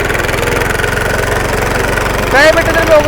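A 2018 engine runs steadily with a rhythmic, chugging idle close by, a higher tonal whine rising briefly near the end.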